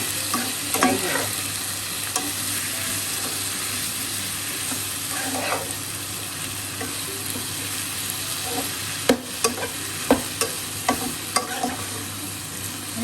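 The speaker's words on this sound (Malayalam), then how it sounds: "തുറന്ന് വെച്ച് തന്നെ ഹൈ ഫ്ലെയിമിലിട്ട് ഫ്രൈ ചെയ്തെടുക്കാം" Chena, elephant foot yam, stir-fried uncovered on high flame, a continuous loud frying hiss with occasional soft stirring and sharp spatula knocks toward the end, close and with no voices.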